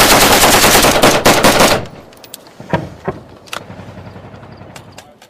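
Machine gun fire during a Taliban attack on a U.S. Marine combat outpost in Afghanistan, a loud rapid burst up close, then scattered sharper shots and distant cracks trailing off.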